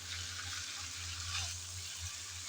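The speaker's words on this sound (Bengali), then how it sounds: "এখন ভালোভাবে কিন্তু কষিয়ে নিতে হবে, যেন একদম ভাজা ভাজা হয়ে আসে এই কচুরলতি" Taro stolons (kochur loti) frying in a pan for a Bengali recipe, a soft continuous sizzle with faint stirring under a low steady hum, quiet and close.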